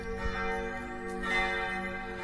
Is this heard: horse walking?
no